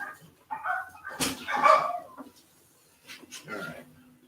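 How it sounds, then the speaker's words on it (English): Dogs bark excitedly in a string of loud, close bursts, pausing briefly before a second flurry, heard in a workshop setting. "those dogs are going crazy right now"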